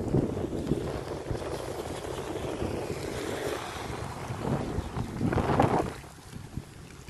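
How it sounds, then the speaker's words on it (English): Wind and rain buffet a ride on a rainy day, a steady roaring wash of gusts that swells near the end, with no speech. "So rainy and windy."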